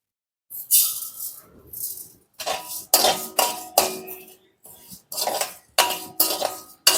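Rice is dry-roasted in a pan for rice jaggery puttu, heard as repeated close bursts of scraping and rattling as a utensil stirs the grains against the metal, separated by brief silences.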